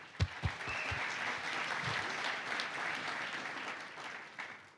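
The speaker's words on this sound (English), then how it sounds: "A big round of applause for the community right here." An audience at a tech conference kickoff keynote gives sustained, even applause that swells and holds across the room, with a few close, sharp thuds at the start.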